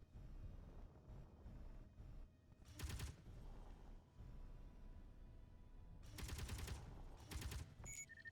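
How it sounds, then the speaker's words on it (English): A Gatling gun in Space Engineers fires in short, loud, rapid bursts, two separated volleys over a low rumbling background, with faint electronic tones at the close. "Isn't that using Gatling?"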